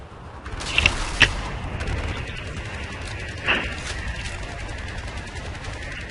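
Gunfire in the Battlefield Play4Free game: a few sharp shots cluster early, then a lone blast, all over a steady wash of dense battle noise without speech.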